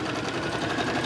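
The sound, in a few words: sewing machine quilting a top stitch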